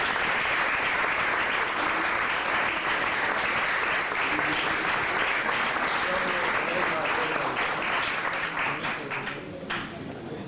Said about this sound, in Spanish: yo quisiera que le diéramos un aplauso a la maestra Ifigenia Martínez